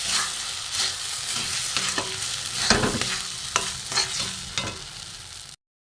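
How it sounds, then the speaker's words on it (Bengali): A sweet milk mixture for pitha malai drying in a hot pan, sticking to the sides, stirred with repeated scraping strokes over a soft sizzle, close and steady, ending abruptly. "নেড়ে নেড়ে আর একটু শুকনো হবে। অনেকটা শুকনো হয়ে গেছে, কড়ার গায়ে আটকে যাচ্ছে,"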